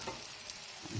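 Turmeric and salt are stirred as they fry in a pan for an egg curry, giving a soft, brief sizzle with a faint scrape that swells slightly at the end.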